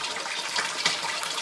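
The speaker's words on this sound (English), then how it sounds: "pump is in the sump tank down here. So this is where all the water circulates from." Water circulating from a pump in an aquaponics sump tank, a steady broadband rush and trickle close by, with no talk over it.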